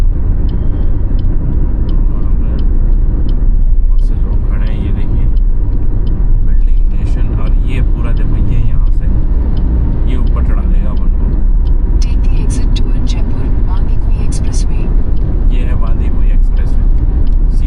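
Cars travel the Jaipur–Delhi expressway, with a steady loud road and engine rumble plus wind noise heard from inside a moving Swift VDI while someone talks throughout.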